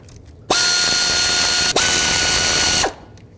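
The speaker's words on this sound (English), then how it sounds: "Next, with a 14 millimeter, go ahead and remove the idler pulley." Power tool spinning off a 14 mm idler pulley bolt on a 1999–2003 Toyota Solara, a loud high whine running about two and a half seconds with one brief dip midway, then stopping.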